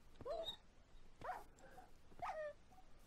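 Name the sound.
dog whimpering in the video game Minecraft Feed The Beast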